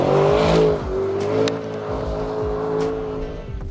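A Lamborghini Urus Performante in off-road mode skids across dirt, its engine revving loudly and wavering in pitch as the tyres scrabble and slide over a rough, rumbling surface.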